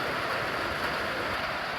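Rain falls steadily on a roof over a sawmill, a dense, even hiss that fills the short stretch without any break or voices.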